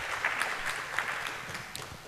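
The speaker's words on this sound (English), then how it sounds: "Nice round of applause." An audience at a hacker camp talk claps steadily in a dense, continuous round of applause, filling the room without any speech.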